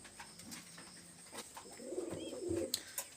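Pigeons cooing softly, a few low throaty coos in a quiet spot, with faint chirps and small clicks around them.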